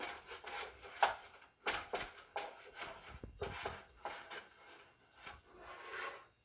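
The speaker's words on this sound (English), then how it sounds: "Okay, we'll stir the marshmallows a little bit more." Marshmallows being stirred in a pot, an uneven run of soft scraping and rubbing strokes, close and fairly quiet, with no voices.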